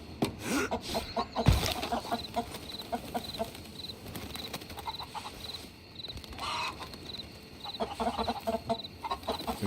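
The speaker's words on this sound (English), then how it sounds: "We got chickens, y'all." Chickens and a rooster in the video game Red Dead Redemption 2 give repeated short clucks in scattered bursts over quiet farmyard ambience.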